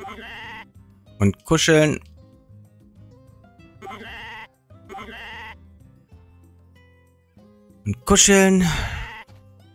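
A goat bleats in the farming video game Story of Seasons: A Wonderful Life, with two short bleating bursts, the second one louder, between stretches of a person talking.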